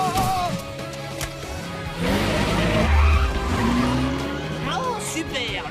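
Cartoon car, the mother's car driven by a cat, skidding with squealing tires over a steady engine drone and busy action music, with voices talking over it.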